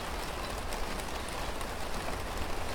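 Steady rain falls outdoors on a morning of water harvesting, a dense even patter of drops with some trickling, continuous and moderately loud, no talk.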